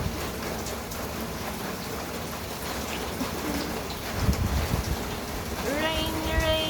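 Steady rain patters on surfaces close by, a dense even hiss with a few heavier drops, while a voice briefly sounds near the end.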